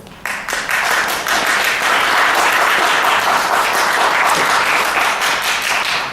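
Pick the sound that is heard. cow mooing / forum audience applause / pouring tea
forum audience applause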